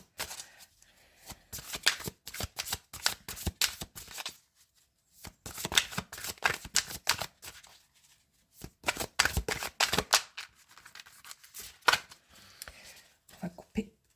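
A deck of cards is riffled and cut in three bursts of rapid, crisp flicking and snapping, heard up close and fairly loud with short pauses between them.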